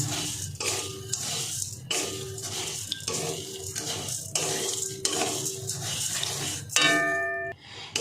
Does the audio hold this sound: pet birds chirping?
no